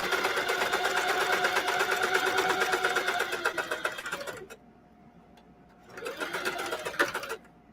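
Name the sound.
sewing machine back stitching on jeans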